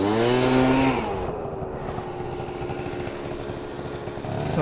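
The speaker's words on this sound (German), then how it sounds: "Und dann komme ich hier mit dem Zweitakter an." A two-stroke scooter engine revs hard, then settles into a buzzing, rattly drone as the rider moves along, loud and close throughout.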